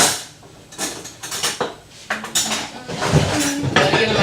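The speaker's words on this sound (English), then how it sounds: "Let me get rid of my whisk." A metal whisk is put away among kitchen dishes and cutlery in a holder, making a close series of clattering clinks and knocks in uneven bursts that grow busier toward the end.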